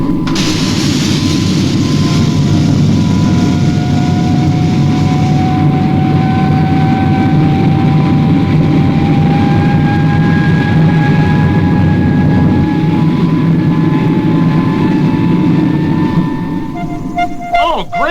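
Supercar, a fictional flying car from a puppet TV series, takes off with a loud continuous engine roar and a rising whine that climbs steadily, running nearly twenty seconds before fading slightly at the end.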